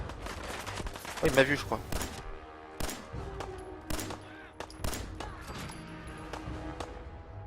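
Gunfire in Fallout 4 during a fight with raiders: several sharp shots spaced a second or so apart, mixed with ambient game sounds, while someone speaks French briefly over the action.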